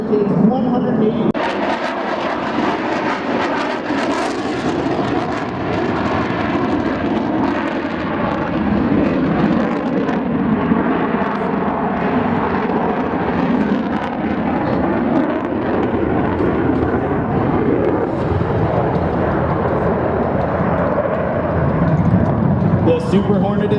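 An F/A-18 Super Hornet performs a slow, high angle-of-attack demonstration at an air show, its jet engines roaring steadily and loudly for the whole stretch while an announcer talks over the noise.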